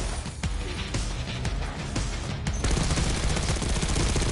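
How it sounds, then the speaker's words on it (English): Sustained automatic gunfire in Call of Duty Black Ops 6 as a whole magazine is emptied, a dense loud rattle of rapid shots with sharp cracks through the first half, blending into continuous heavy noise. "Unload the whole mag into him"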